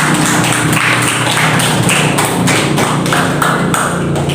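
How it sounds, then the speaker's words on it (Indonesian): A group in a classroom-style session gets audience applause: a dense, loud patter of many hands clapping continuously, close and alone. "Kita beri aplaus dulu untuk kelompok"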